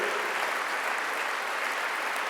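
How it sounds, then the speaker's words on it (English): A crowd applauds the winning yacht crew at the 2019 Rolex Sydney Hobart Yacht Race award presentation, a steady wash of distant clapping with no talking. "Give them a big round of applause"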